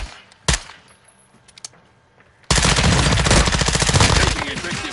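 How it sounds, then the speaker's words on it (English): Gunfire in a first-person military shooter: a few scattered single shots, then a sudden loud, sustained burst of rapid automatic fire for the last half, close and dominant. "Taking effective fire."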